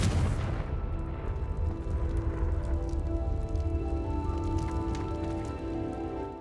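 The Confringo fire-blast spell goes off in Hogwarts Legacy with a loud burst at the start, then a dense crackling, rumbling wash that carries on under faint sustained musical tones.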